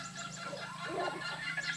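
A sick chicken that has not digested a large amount of eaten food clucks and gurgles softly, close by, with low murmuring throughout and a steady background hum.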